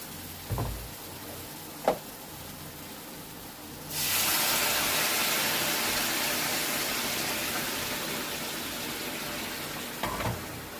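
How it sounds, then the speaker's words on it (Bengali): Hot water pours steadily into a pot of Bengali katla fish curry with potatoes and taro, a loud continuous gushing splash that starts suddenly after a few clanks and gradually eases, with no talk. "এবার জল দিয়ে দেব, গরম জল"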